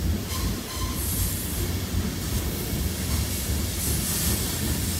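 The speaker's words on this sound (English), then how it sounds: "Boy, this is a long train." A long freight train rumbles steadily across a railway bridge, with a dense roll of wheels on rails and occasional faint metallic squeals, loud and unbroken, with no voices.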